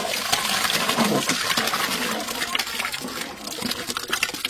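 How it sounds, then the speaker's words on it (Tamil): Mashed lentils are poured into a cooking pot already holding turmeric and the lentil cooking water, giving a soft, continuous watery splashing and sloshing close by. "கடைஞ்சி வச்ச பருப்பை ஊத்திக்கலாம்."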